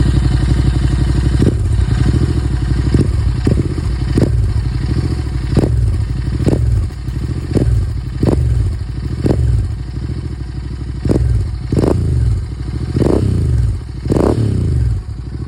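A Royal Enfield Interceptor 650 exhaust rumbles close and loud in a deep, bassy idle, punctuated by a dozen or so sharp throttle blips that rise and fall in quick succession.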